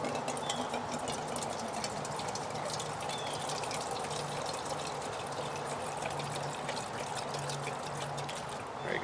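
Water pours steadily into a cooking pot for boiling shrimp, a continuous close trickling gush that runs unbroken throughout at an even level with no speech.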